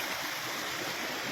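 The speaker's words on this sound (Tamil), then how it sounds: "கைலாய மலையிலேருந்து தண்ணி மேலேருந்து கீழே அப்படி வந்துக்கிட்டே தான் இருக்கும்." Stream water flowing down from Mount Kailash rushes in a steady, dense wash, close and unbroken throughout.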